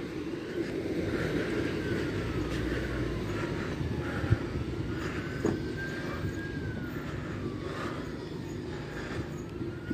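A Southeastern Class 375 electric multiple unit pulls away toward Ramsgate, a steady rumble of wheels and traction with rising and falling motor whine and occasional clanks, moderately close, no voices.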